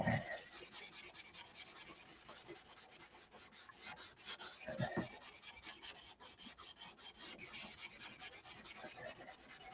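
Continuous rasping of sandpaper rubbed back and forth over a car body surface before primer, a dense gritty scratching that stays steady and fairly quiet throughout with no talking.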